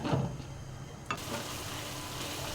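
Spice masala frying in a covered pan and being stirred gives a soft, steady sizzle, with a brief clatter partway through and a fuller hiss after it.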